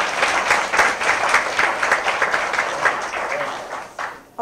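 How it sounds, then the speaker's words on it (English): An audience at a women's history event applauds in a loud, dense, continuous burst of many hands that fades near the end before a voice cuts in. "Gordon another hand clap?"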